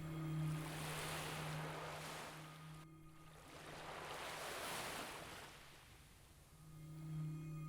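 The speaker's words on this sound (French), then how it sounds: "bercé par le va-et-vient des vagues" Ocean waves wash up onto a beach in slow, rolling surges, each swell rising and fading in a soft, broad hiss, calm and continuous with no voices.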